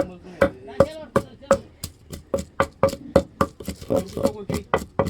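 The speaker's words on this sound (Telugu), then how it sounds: "ఇందులోకి కొంచెం నాలుగు వెల్లుల్లి రబ్బలు వేసుకొని అలా అలా దంచేసుకుందాం" Garlic cloves and chili being pounded in a stone mortar for a Telugu-style ridge gourd peel chutney, a steady run of sharp, close thuds at a quick, even rhythm, with a voice talking faintly underneath.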